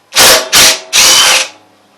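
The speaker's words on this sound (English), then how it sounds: "12mm on the impact." An impact wrench with a 12mm socket rattles out head bolts on a Honda Harmony engine in three loud, close bursts: two short ones, then a longer one that trails off.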